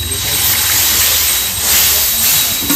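Water poured into a hot pan of potato and prawn curry gives a loud, steady sizzling hiss that swells and fades slightly over a few seconds, close up, with no talking.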